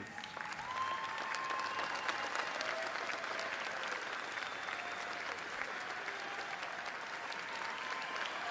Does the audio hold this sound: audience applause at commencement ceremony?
yes